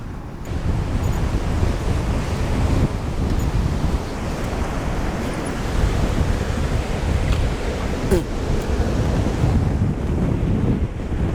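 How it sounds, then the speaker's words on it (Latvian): Strong storm wind blasts across a Latvian beach, a loud, continuous roar of gusts mixed with crashing surf that holds steady throughout with no letup. "Pūš nereāli."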